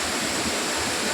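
Ukkada waterfall near Muttodi forest, a dense, steady rush of falling water filling the whole sound, constant and fairly close with no voices.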